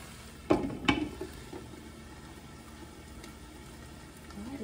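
Vegetables and sausage stir-fry in a pan, a steady sizzle broken by two sharp scraping stirs near the start and a softer one later, close and alone without talk.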